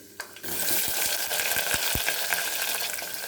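Seeds, fenugreek and onions hit hot oil and start to fry with a sudden loud sizzle that holds steady, close to the microphone, with a few soft knocks and stirring scrapes and no talk.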